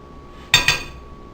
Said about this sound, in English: we'll mix up our beans and our chorizo sausage